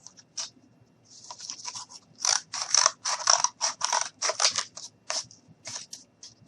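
Repeated crunching snips of scissors cutting cardboard for a toy jeep seat, close and rhythmic, with short pauses between cuts and no talk.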